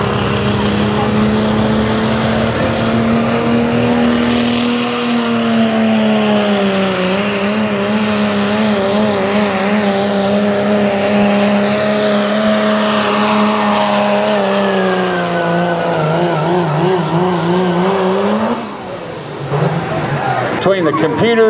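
Dodge pickup with a 5.9 Cummins diesel at a truck pull runs loud and steady, a deep droning engine note rising and falling in pitch for about twenty seconds, with a brief dip near the end.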